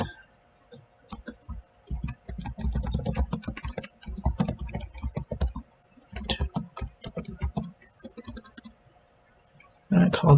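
Keystrokes clatter on a computer keyboard while a person lays out a text box in Photoshop, bursts of quick clicking coming in uneven runs with brief pauses between them, close and clear.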